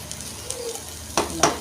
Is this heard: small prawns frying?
yes